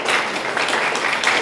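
Steady, dense applause from an audience at a Daejeon–Chungcheong public institutions job-idea contest awards ceremony, a continuous wash of clapping at moderate loudness with no pauses.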